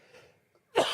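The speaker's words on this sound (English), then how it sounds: "I have to cough." A single sharp cough bursts out near the end, close and loud, after a moment of quiet and faint murmuring.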